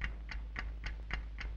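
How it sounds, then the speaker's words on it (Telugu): A time bomb in a film ticks in an even, regular rhythm, about six sharp clicks in under two seconds, close and fairly faint over a low background hum. "ఏంటి టిక్ టిక్ శబ్దం వస్తుంది?"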